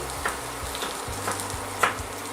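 Bell pepper is sautéed in a pan, giving a soft, steady sizzle with a few light stirring scrapes, close and without speech.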